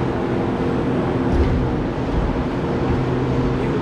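A car engine held at a steady, loud drone during a dyno pull with a 100-shot nitrous setup, a continuous low rumble with no pauses or voices.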